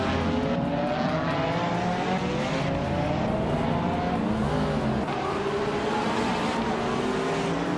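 Several race cars, among them a 2020 Aston Martin Victor, roar through a racing game. Engine pitches rise and fall steadily over a continuous loud bed of motor noise, with brief tire squeal and no talk.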